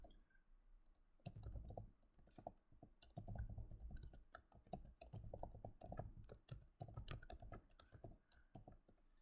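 Quick bursts of clattering keystrokes on a computer keyboard, close and quiet, typed in several rapid runs separated by short pauses, with no voices.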